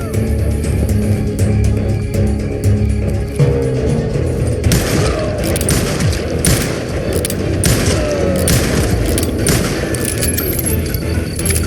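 Gunfire from a Wild West shooter, Call of Juarez: Gunslinger, crackles as a dense, loud fusillade of overlapping shots and mechanical clatter that never lets up, with brief sharp bursts standing out over the din.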